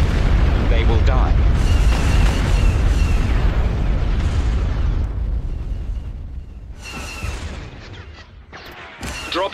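Heavy rolling explosions from an orbital bombardment in Star Wars: Empire at War, a dense loud barrage of booms lasting several seconds and easing toward the end, with game voice lines mixed in.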